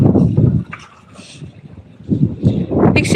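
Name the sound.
strong wind at the sea, waves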